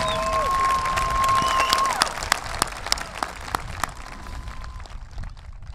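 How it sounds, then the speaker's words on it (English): At a high school graduation ceremony, a crowd applauds steadily, with dense clapping that fades toward the end, plus a few sharper claps standing out and a brief tone early on. "Let's give Chris a huge round of applause for his service to our country."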